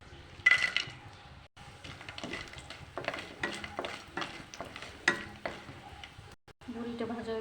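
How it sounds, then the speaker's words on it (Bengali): Lentil dumplings (bori) frying in oil in a pan, a soft bubbling sizzle broken by clinks and scrapes of a utensil moving the pieces, near and moderately quiet. "আগে বড়িটা ভেজে তুলে নেব।"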